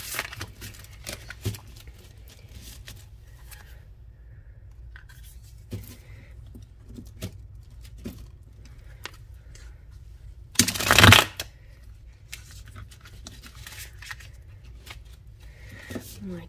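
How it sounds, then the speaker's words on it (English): A deck of Rider-Waite-Smith tarot cards is shuffled close by, giving repeated soft riffling and tapping, with one louder burst of rapid riffling partway through and quiet room tone between. "Let's give it a good shuffle."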